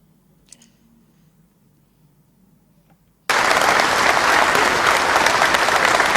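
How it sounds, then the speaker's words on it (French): Frenzied applause erupts suddenly after a few seconds of near silence, greeting the entrance of Congolese head of state Félix-Antoine Tshisekedi at a business federation's annual new-year ceremony; the clapping is loud, dense and sustained. "Des applaudissements frénétiques pour saluer l'entrée du chef de l'État, Félix-Antoine Tshisekedi Tshilombo"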